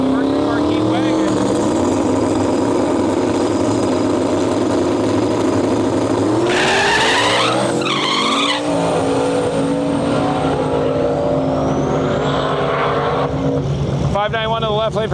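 A Limited Street drag race pairs a turbocharged Fox-body car against a Mercury Marquis wagon at a Canadian outlaw event. Loud engines drone and rev, surge sharply mid-run, tyres squeal briefly, and the racket continues with a burst of higher revving near the end.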